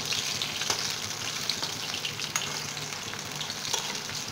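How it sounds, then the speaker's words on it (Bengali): Chicken pakoras sizzle steadily in hot oil, a loud close crackle and hiss with occasional stirring clinks and bursts as the pieces are turned. "এবার দুই পাশে কিন্তু এরকম নাড়াচাড়া করে আবার ভালো করে ভেজে নেব"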